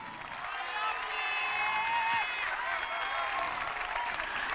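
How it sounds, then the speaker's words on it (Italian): A crowd applauds and cheers at an official team presentation for the Pesaro basketball club, steady dense clapping swelling slightly mid-way, with whistles and an announcer's voice over it. "Che applauso questo!"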